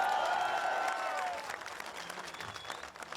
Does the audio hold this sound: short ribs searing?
no